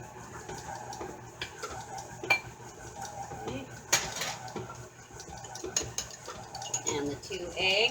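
Soft butter dropped and scraped into a bowl of oatmeal gingerbread cookie dough, with clinking of utensils against the bowl and dishware knocking at irregular intervals, close and moderately loud.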